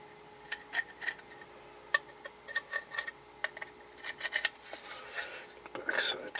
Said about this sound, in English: just grab a larger drill bit and just run it around a little bit to clean up the rough edges